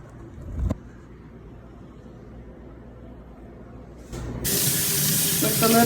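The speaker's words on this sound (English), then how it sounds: "To an airtight container, filled it up for about 2 to 3 inches of water." After quiet room noise and a brief clunk, water starts rushing from a tap into a container, a steady loud hiss that rises slightly toward the end.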